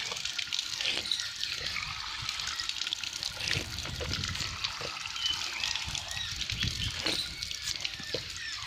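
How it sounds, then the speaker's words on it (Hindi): Cool drinking water runs steadily from taps in the courtyard of the Sugriv Mahadev temple at Rohida, a soft, continuous trickle and splash heard at a moderate distance. "यहाँ पर ये नल लगे हुए हैं जहाँ का शीतल पानी आप पी सकते हैं।"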